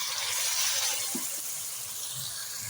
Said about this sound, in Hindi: हल्का सा हम पानी लगाएंगे।